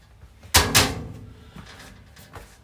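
Door of a homemade smoker cabinet with a pellet hopper being fitted and shut: two loud close thuds in quick succession, followed by a few fainter knocks and handling clunks.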